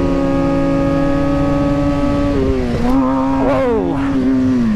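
A motorcycle engine drones steadily as a kid pops a wheelie, its pitch holding level and then swooping up and down as the throttle changes, loud and close throughout.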